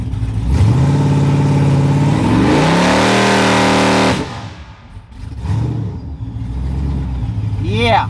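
A truck engine held on a trans brake revs hard up to about 5000 rpm, a loud, rising sustained roar that then drops to a rough idle with smaller blips, recorded close by.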